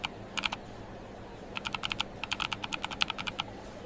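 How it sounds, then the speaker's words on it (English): Fingers tapping on a computer keyboard in a short burst, then a longer run of steady, even keystrokes, close and clear with no talking. "I am typing it down."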